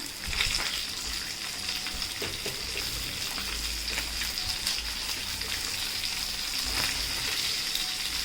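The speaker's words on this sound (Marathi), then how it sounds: "इथे आपण आता परत एकदा तुकडे मस्तपैकी अशा अलटीपलटी करून घेऊयात म्हणजे दोन्ही साईड अशी आपली मस्तपैकी तुकड्यांची फ्राय होईल" Pomfret pieces sizzle steadily in a hot pan as they are flipped, a continuous close frying hiss with faint scraping of the turner, no voices.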